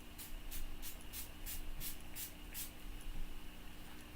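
A series of short, soft spray bursts of water onto stamped craft ink in quick succession, like a hand-pumped mister, over a faint steady background hum.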